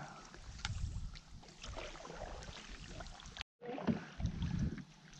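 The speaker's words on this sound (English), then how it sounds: "Back on the river, guys. We got another 7 mile paddle out" Canoe paddling on a river in the Adirondacks, New York, in cold misty weather: soft, irregular paddle strokes and water swishes against the hull, with light wind noise and a brief dropout midway.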